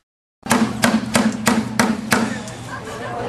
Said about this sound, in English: we'll go ahead and tap on the bucket here a couple of times